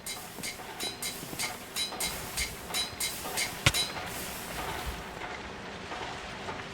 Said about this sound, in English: Forge hammer is complete.